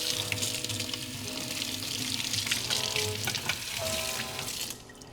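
Quinoa being strained and rinsed, running water pouring and splashing through a strainer into a sink for several seconds, then tapering off at the end, with no voices.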